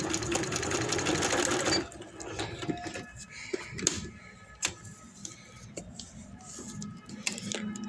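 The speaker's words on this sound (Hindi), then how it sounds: "सेम इसी तरीके के साथ मैंने फिर यहाँ से इसकी सिलाई लगा देनी है।" Sewing machine stitching an embroidered trouser hem, running in a dense steady whir for about two seconds, then stopping and starting in short bursts with clicks and small mechanical taps.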